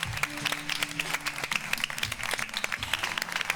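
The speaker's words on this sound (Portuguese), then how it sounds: "Eu gostaria que vocês dessem uma calorosa salva de palmas de boas-vindas a Akinbode Akinbi." Audience at a media forum breaks into warm applause to welcome a guest photographer, a dense, steady burst of many hands clapping throughout.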